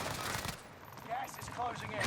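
Gunfire crackles in a first-person shooter match: bursts of shots with a few sharp cracks, heard under in-game voice callouts.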